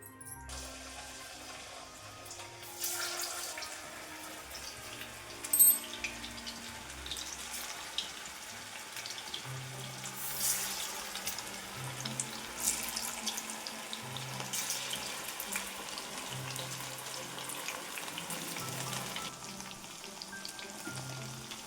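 Chicken pakoda deep frying in coconut oil gives a quiet, continuous bubbling sizzle, heard close, with a few brief clinks along the way.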